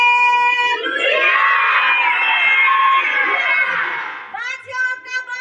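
A church congregation shouts and cheers together in a loud, sustained roar of many voices, rising after a brief lead-in and fading into scattered individual shouts near the end.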